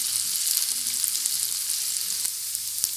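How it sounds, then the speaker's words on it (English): Egg gravy masala fries in a pan, a steady close sizzle and crackle with occasional spits and stirring, alone without talk. "Let it fry for 5 minutes."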